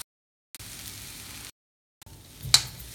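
Curry leaves and salt dropped into a pan of sauteing sweet potato give a soft, steady sizzle in two bursts, the second ending in a sharper crackling pop, with silent gaps between.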